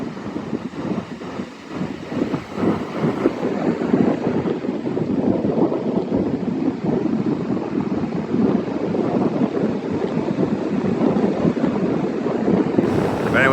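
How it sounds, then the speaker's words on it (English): Steady roar of ocean surf and gusting wind at Seaside Park beach in New Jersey, with a heavy swell breaking continuously and wind buffeting the microphone throughout. "There's a lot of rip currents, a lot of swell going on out there."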